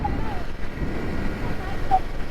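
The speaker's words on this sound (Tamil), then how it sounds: "ஆடுது காத்து" Wind rushes past on a motorbike group ride from Kanyakumari. It makes a steady, loud, broadband roar that is close to the microphone and holds throughout, with muffled voices faint underneath.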